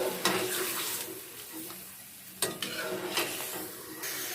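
Chicken cooks in ghee for a shahi korma, giving a steady, close sizzle of frying broken by several sharper clanks and scrapes as the pieces are stirred.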